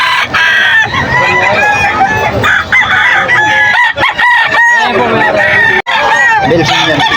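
Roosters crowing repeatedly and chickens clucking at a poultry market in Bocaue, Bulacan, loud and close, overlapping calls amid crowd babble and people talking nearby.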